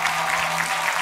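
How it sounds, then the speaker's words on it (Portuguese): A studio audience at a television quiz show breaks into steady, dense applause, many hands clapping evenly and loudly throughout, with a low hum underneath. "Um aplauso para ela!"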